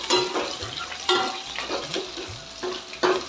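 Shallots and curry leaves sauté in a hot pan: a close sizzle broken by rhythmic spatula scrapes about every second, with no talking.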